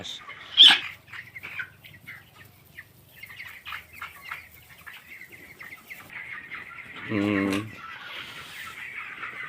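Broiler chickens cluck and squawk nearby, with a brief burst of wing flapping and scuffling as the birds rush to feed.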